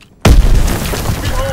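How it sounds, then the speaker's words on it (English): In the Call of Duty WWII multiplayer game, on the Valkyrie map in Domination mode, a stun grenade detonates with a sudden, close, heavy boom, and its rumble fades over about a second. "Tossing stun grenade."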